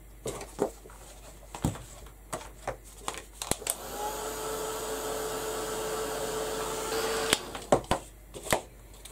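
A hair dryer blows air onto a piece of artwork, a steady close whoosh running for a few seconds between bursts of rustling and tapping.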